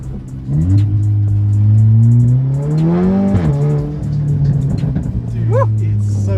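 A modded Audi S3 revs hard from inside the cabin, its engine note climbing in a rising sweep, briefly easing, then pulling again, loud and close with a bit of talk mixed in.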